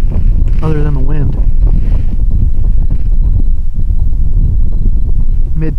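Strong wind buffets the microphone outdoors on the ice during ice fishing, a loud continuous low roar, with a voice talking briefly near the start.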